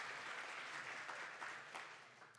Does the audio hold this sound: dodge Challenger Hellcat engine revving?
no